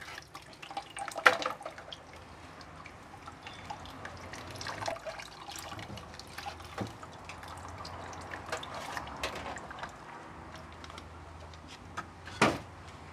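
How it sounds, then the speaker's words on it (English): Water squeezed by hand from grated coconut husk while making traditional Trinidadian coconut oil drips and trickles faintly into a container, with scattered louder splashes and clicks against a quiet room. "you're squeezing the water out of the husk"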